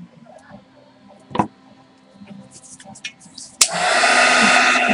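A hair dryer switches on and blows steadily and loudly to dry paint on a stencilled canvas, preceded by a few light clicks and taps.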